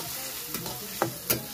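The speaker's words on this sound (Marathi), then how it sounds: "तर टोमॅटो पण आहे ना मऊसूत होईपर्यंत चांगलं परतून घ्यायचं आहे" Tomatoes fry in a hot pan with a steady close sizzle, punctuated by a few sharp scraping stirs of a spoon against the pan.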